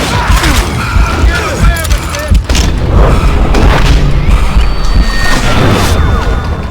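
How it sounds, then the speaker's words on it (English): A fusillade of gunfire rains down in the Western shooter game Call of Juarez: Gunslinger, loud dense booms and crashes over a constant roar, with a narrator's voice running underneath. "It was then that a fusillade of bullets come raining down from on high"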